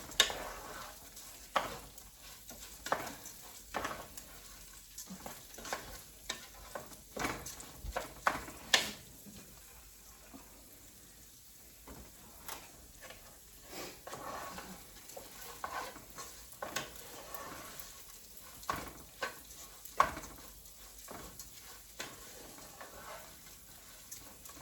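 Rice browning in a pot for Mexican rice, with a quiet, steady sizzle broken by repeated scraping stirs that come in irregular bursts throughout, and no voices.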